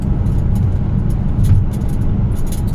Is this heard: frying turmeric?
no